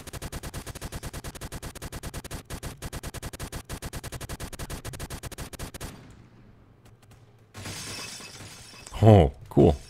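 Glass shattering in Roblox Phantom Forces amid rapid gunfire: a long, fast burst of shots, a sudden crackling break of glass after a pause, then a brief voice talking over it.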